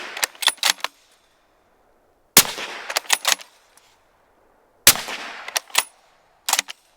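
A rifle fitted with a Dead Air Primal suppressor fires about three sharp shots into steel targets at irregular intervals, each followed by a short clattering, metallic ring.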